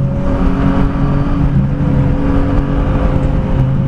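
A motorcycle engine runs close by while riding the winding curves near Al Hoceima, a loud, steady, humming drone with strong low tones that holds at an even pitch without pause.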